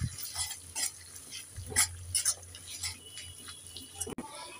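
Ginger-garlic and cumin-coriander paste is stirred in a pan for a meat pitha, with intermittent scraping strokes and clinks over a faint sizzle, close and moderately quiet.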